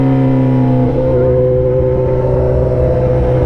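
A Suzuki GSX-S 750 naked motorcycle's exhaust is revved hard while stationary, producing a loud, sustained, close-up engine roar with steady harmonic pitch that dips slightly and climbs again, with no voices.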